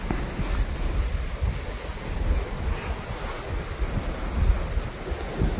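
Wind blowing outdoors, a steady broadband roar with low rumbling gusts that swell and ease throughout, close and fairly loud with no voices.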